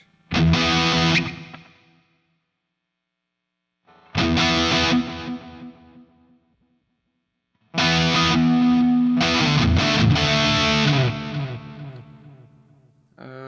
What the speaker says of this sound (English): Tape echo. Let's see what that sounds like.